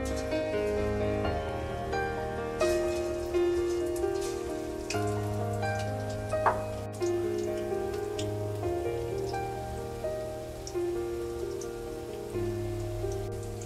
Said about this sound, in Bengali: দেখুন তেলটা খুব ভালোভাবেই গরম হয়ে গেছে। এবার আমি পকোড়াগুলো দিয়ে দিচ্ছি।